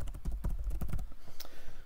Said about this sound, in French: Donc je tape Bazancourt ici